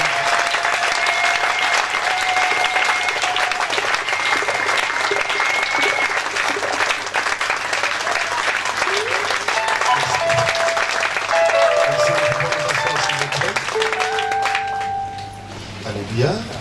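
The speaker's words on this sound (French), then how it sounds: "je vous prie d'acclamer très fort" A church congregation bursts into loud, sustained applause that fills the hall for about fifteen seconds before tapering off, with voices and cheers mixed through it.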